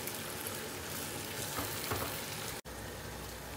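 Steady, dense sizzling of potatoes and onions frying in hot oil for a Spanish omelette, continuous and close, with a brief dropout near the end before it resumes.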